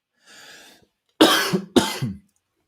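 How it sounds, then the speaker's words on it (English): A person coughs twice in quick, sharp bursts close to the microphone after a brief soft throat sound, then silence. "Excuse me for coughing."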